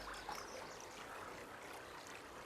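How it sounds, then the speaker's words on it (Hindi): Faint, continuous water flowing with a hollow, echoing quality nearby, a soft even wash with no voices over it. "यहाँ पानी की गूंज सुनाई दे रही है।"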